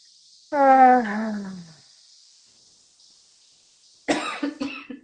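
A person coughs once with a rough, voiced cough, followed a few seconds later by a second burst of harsher coughing, close and fairly loud.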